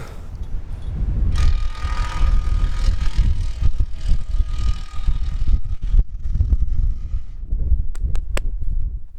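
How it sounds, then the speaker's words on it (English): Strong gusts batter a camera microphone outdoors in a parking lot, producing loud, close, rumbling low buffeting that surges and dips continuously, with a few sharp crackles near the end. "It's so windy, my camera's blowing all over the place."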